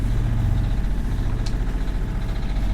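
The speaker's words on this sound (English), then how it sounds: "Engines on." A sailing boat's engines idle in a steady, loud low-pitched drone that runs continuously without pause.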